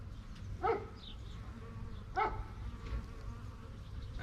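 Bees from a swarm that has hung in place for a day or two buzz faintly outdoors. A low hum runs under a couple of sharper passing buzzes near the mic.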